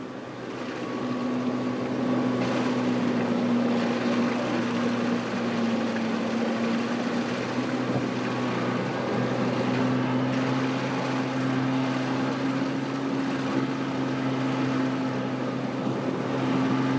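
Motorboat engine running steadily on a fast-flowing river with strong current, a continuous droning hum with a sustained tonal whine, close and fairly loud throughout with no speech.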